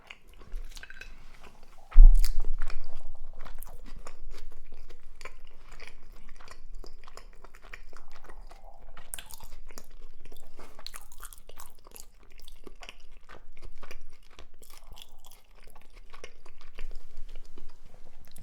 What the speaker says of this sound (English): Got those crunchy onions and lettuce in there.